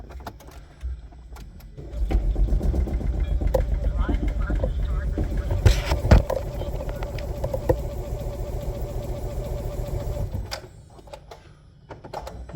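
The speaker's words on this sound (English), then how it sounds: "crank engine" A Smart Fortwo 451 micro-hybrid 1.0L engine with a leaking head gasket cranks and catches, then idles steadily for about eight seconds before shutting off, loud and close.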